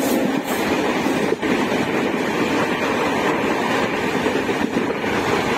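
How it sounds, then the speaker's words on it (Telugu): A passenger train runs from Kengeri station in Bangalore toward Wayanad, with a steady, loud rumble and rattle of the carriages throughout and faint clicks of wheels on rail joints. "బెంగళూరులో కెంగేరి రైల్వే స్టేషన్ నుండి ట్రైన్ ఎక్కి వాయనాడ్కి స్టార్ట్ అయిపోయాం."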